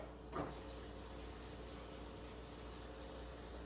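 Water runs steadily from a tap for a can of garbanzo beans, a quiet, even hiss after a brief splash at the start, with no voices.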